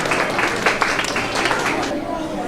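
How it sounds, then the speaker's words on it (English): An audience applauds for Jill Williams, a hospital worker, at a holiday tree-lighting event: dense, steady clapping fills the whole stretch and thins slightly toward the end, with voices mixed in. "Give her a round of applause, guys."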